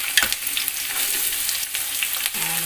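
Chopped onion sizzling in hot oil with curry leaves for poha, a steady, close, bright frying hiss with small crackles and a slight stirring scrape, and no talking.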